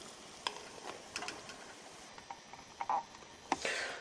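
Uncovered pot at a gentle simmer on a homemade pop-can alcohol stove, a soft continuous bubbling hiss with scattered small pops and ticks, close and fairly quiet with no voices.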